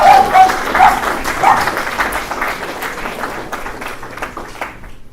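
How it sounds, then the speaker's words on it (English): A crowd claps steadily, loud at first and then slowly thinning and fading out over several seconds. "Let's give Bill another round of applause"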